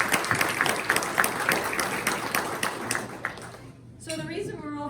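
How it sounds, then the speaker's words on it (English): A tax briefing breakfast audience gives a short round of applause for the event's sponsors. It starts brisk and fairly loud, thins out after about three seconds, and then a voice takes over. "So let's give them a quick round of applause."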